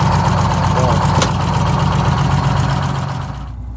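GM 4104 bus engine running steadily nearby, a dense low mechanical drone with a brief sharp click partway through, fading slightly toward the end.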